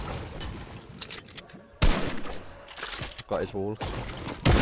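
Bursts of gunfire in a Fortnite arena duo match, sharp clustered shots and building clatter in short loud volleys, interleaved with players talking close to the mic.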